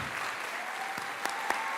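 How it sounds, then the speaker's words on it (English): Steady crowd applause at a youth academy graduation ceremony, filling the whole stretch, with a few sharper claps standing out near the end. "Give her one round of applause."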